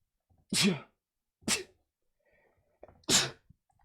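Three sharp sneezes burst out in a quiet room during an online class, spaced about a second apart and close to the microphone.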